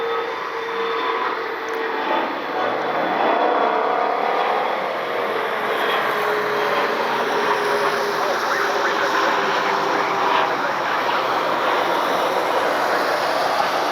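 A Delta Connection CRJ jet bound for Detroit on a rainy night at Cleveland Hopkins gives off a steady, broad engine roar and whine that holds loud and even throughout, mixed with rain and airport background noise.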